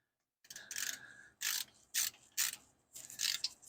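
Ratchet wrench snugging a bolt back up on a 1972 Chevrolet Monte Carlo A-body, heard as several short bursts of rapid clicking separated by brief pauses, fairly close and clear with no talking.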